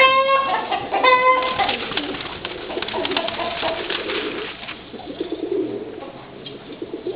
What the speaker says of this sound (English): Got our doves down here